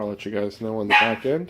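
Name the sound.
dog barking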